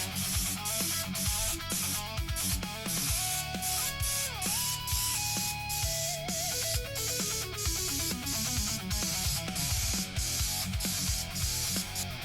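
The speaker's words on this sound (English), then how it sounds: "just getting spray adhesive all over my garage, all over the basement" Spray adhesive hisses in short repeated bursts onto a guitar amp cabinet in a garage or basement, each spurt crisp and close, over steady background music.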